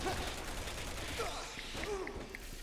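Gunfire in Resident Evil 6 crackles as a dense, moderately quiet spray of shots behind game sounds, with a voice speaking over it.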